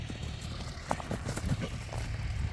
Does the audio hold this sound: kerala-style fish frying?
no